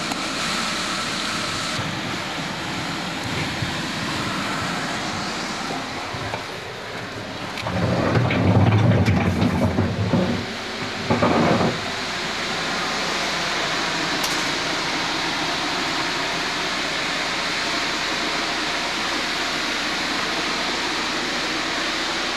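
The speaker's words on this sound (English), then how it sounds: "Now you'll leave your blower on high speed" A blower inflates a commercial swimming pool dome cover with a loud, steady, continuous roar of rushing air. The roar swells into a heavier rumbling surge partway through, then settles back to the same constant drone.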